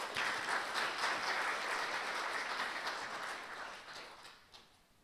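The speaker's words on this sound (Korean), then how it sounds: "한상욱 박사님을 큰 박수로 맞이해 주시기 바랍니다." Applause from a conference audience welcoming a keynote speaker at a quantum information event, steady dense clapping throughout that slowly fades toward the end, with no talking over it.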